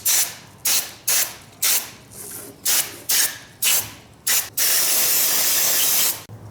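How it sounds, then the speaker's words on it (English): Short bursts of carburetor cleaner spray hiss close by on a Mikuni carb body from a Yamaha Banshee, about eight quick spurts in a row, then one long continuous spray lasting nearly two seconds. "I'll spray it with carb cleaner to actually remove all the sand and dirt that's on the carb body"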